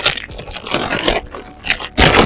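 A fabric grow bag for potatoes being rolled down by hand outdoors, producing close, crinkly scraping and rustling in uneven bursts, with a louder scrape at the end.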